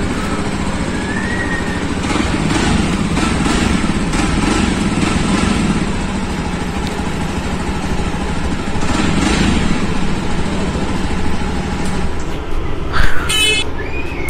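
Jawa Perak BS6 motorcycle with a double silencer exhaust, its engine running steadily and fairly loud and close throughout, a continuous low rumble with a brief sharper burst near the end.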